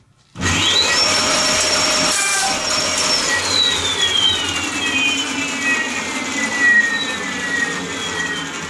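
An electric motor fitted to a Yamaha YZ85 dirt bike spins up to full RPM, a loud whining buzz with a rising and falling high tone, steady for several seconds.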